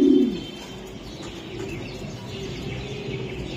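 A racing pigeon that has flown six or seven races coos in a strong burst at the start, then a softer, steady low murmur of cooing carries on underneath for the rest.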